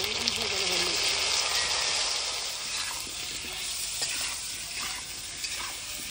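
Potatoes fry in a pan, giving a steady broadband sizzle with stirring scrapes. The sound is close and continuous, with occasional small pops.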